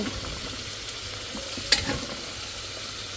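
Beef and potatoes stir-fried together in a pot give a faint, steady low sizzle with soft scraping, plus one sharper clack of the utensil partway through.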